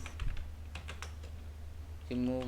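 Python code being typed on a computer keyboard: a short, close burst of quick, uneven key clicks, ending in a brief tonal sound.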